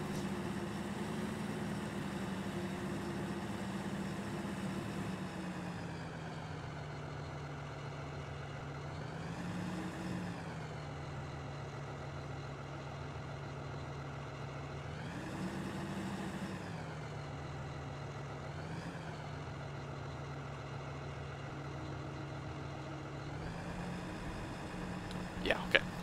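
A tractor engine in Farming Simulator 15 while chopping corn, a steady low drone with a droning harmonic hum that swells in pitch several times as the engine revs, running continuously at a faint level under occasional talk.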